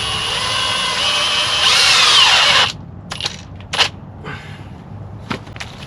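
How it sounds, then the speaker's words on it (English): A power drill whines loudly for a few seconds while pre-drilling holes in wood, its pitch shifting as it bites in, then stops, followed by scattered clunks and short bursts. "Pre-drill some holes, get her stuck,"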